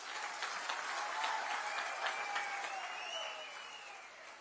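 Crowd at a political rally in Kathua, Jammu and Kashmir, breaking into sustained applause, a dense, steady clapping that swells and then slowly tapers off.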